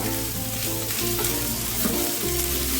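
Onion, ginger and Kashmiri chili powder stir-fried together in a pan for a Bengali rui posto, a steady close sizzle with scraping stir strokes throughout.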